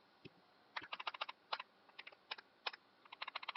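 Fingers tap quickly on a computer keyboard in uneven bursts of clicky keystrokes, close and fairly quiet, with brief pauses between runs.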